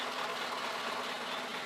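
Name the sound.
Isuzu FVR 90 heavy truck engine idling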